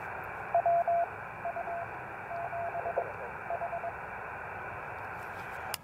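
Morse code CW tones received on a Yaesu FT-817 portable radio during a Summits on the Air activation, short keyed beeps in an uneven rhythm over steady band hiss, fairly faint.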